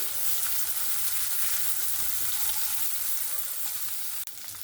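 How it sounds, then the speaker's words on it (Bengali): Rava-coated bombil fish fries in a pan, a dense continuous sizzle heard close and alone, with a brief sharp knock near the end as the fish is handled. "মাছটা এখানে আমার এক সাইড ভাজা হয়ে গেছে।"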